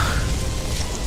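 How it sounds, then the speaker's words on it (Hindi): Heavy evening rain pours down in a steady, dense roar, loud and continuous with no voices over it. "शाम को तेज बारिश होने लगी सो अलग।"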